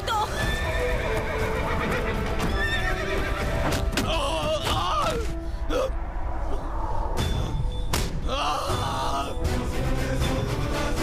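A wild horse neighs and whinnies loudly in a dramatic film scene, with clip-clopping hooves and other sounds mixed in over several repeated calls.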